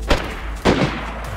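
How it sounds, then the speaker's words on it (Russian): Two sharp nearby gunshots in the survival game DayZ, a loud crack followed about half a second later by a heavier second shot, each with a short booming tail and no talk. "там стреляют"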